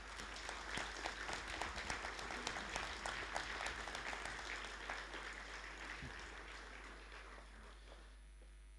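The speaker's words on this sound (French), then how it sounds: "On peut l'applaudir." Applause from the audience at a municipal council installation meeting, a room full of people clapping steadily with distinct individual claps, fading out toward the end.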